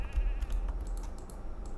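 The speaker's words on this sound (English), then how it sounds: "A lot of sheep." Sheep bleat in the online game The Lord of the Rings Online, a wavering nasal call near the start set against a noisy background with light clicking, heard without speech.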